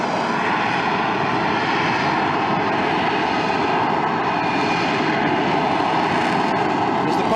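Harrier jump jet during a STOVL display, its engine giving a loud, continuous broadband roar of thrust with a steady hiss. The roar stays powerful and unbroken from start to finish, with no voices heard over it.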